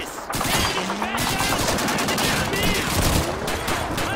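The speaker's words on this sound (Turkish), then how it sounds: "Oha, kurşun sesleri acayip geliyor." Rapid gunfire in the World War II shooter game Call of Duty 2, with repeated bursts of machine-gun and rifle shots cracking densely over several seconds, loud and close with distant battle noise.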